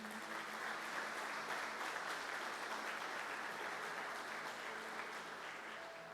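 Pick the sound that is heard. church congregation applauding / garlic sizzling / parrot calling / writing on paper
church congregation applauding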